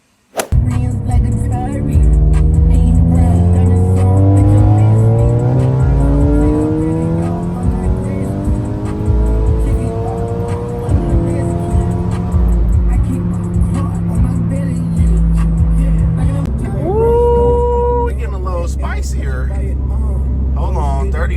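A 190k-mile Audi A3 Quattro tuned to 500 hp revs hard and accelerates close by, with a loud rising engine roar, turbo whoosh and gear changes, then a high whine and chirps near the end.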